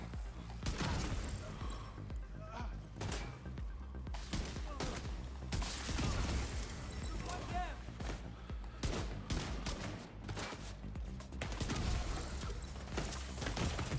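Scattered gunfire in The Division 2, with irregular bursts and single cracks repeating over fourteen seconds amid a busy combat din, moderately loud and fairly close.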